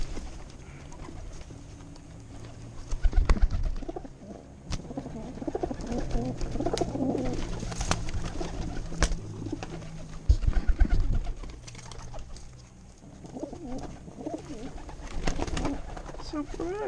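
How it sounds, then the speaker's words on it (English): Wood pigeons coo softly in a low, repeated rhythm at close range, mixed with wing flaps and bumps, while someone talks intermittently over them. "Pioneer pigeons are going to come in."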